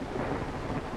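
Rain falls heavily in a thunderstorm, with a dense, continuous hiss and a low rumble of thunder underneath, steady and enveloping for a brief moment.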